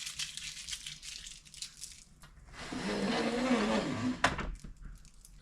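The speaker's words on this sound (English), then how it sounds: "Peel the plastic off." Protective plastic film peeled off a newly fitted caravan roller blind, a close crinkling, tearing rustle that swells for a couple of seconds after some earlier handling clicks and ends with a sharp snap.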